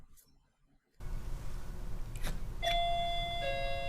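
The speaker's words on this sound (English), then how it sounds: "now it's working fine and it finishes the ring chime" A wall-mounted doorbell chime, just repaired, rings its full two-note ding-dong after a second of near silence and a faint click, the tones clear and ringing out close by.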